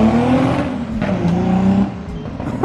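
A loud drift race car engine idles and revs close by, its low rumble rising and falling with no talking over it.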